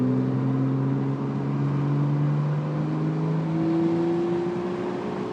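A 2022 Toyota GR Supra with an automatic gearbox drives hard on a race track, its engine droning loudly and steadily with rising, shifting tones, heard up close and alone with no talk.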